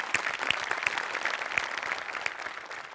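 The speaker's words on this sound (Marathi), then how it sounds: "त्यामुळे सगळ्यांकरता एकदा टाळ्या." Audience applause on the Marathi comedy stage show Maharashtrachi Hasya Jatra after a team performance: steady, dense clapping with sharper individual claps standing out, loud and continuous throughout.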